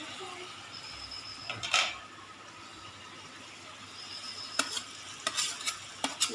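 Onion, ginger and garlic sizzle in a hot pan, with a soft steady fry broken by a few sharp clinks and scrapes of a spoon stirring against the metal.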